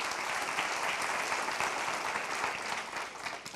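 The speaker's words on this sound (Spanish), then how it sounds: "Denle un aplauso al Señor" A church congregation applauds the Lord after a sermon, dense sustained clapping that fills the space steadily before tapering slightly at the end.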